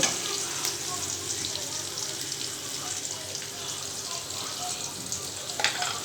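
Chopped onion fries in a pan with a steady, dense sizzle and occasional crackles close by, a continuous frying hiss throughout.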